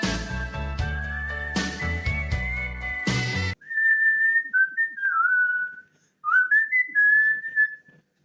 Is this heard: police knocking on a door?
no